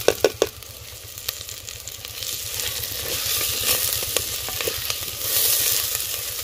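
Tomato and green chili frying in a pan for a village rice-water curry, giving a steady close sizzle with a few sharp clicks of stirring at the start and rising bursts toward the end, no voices.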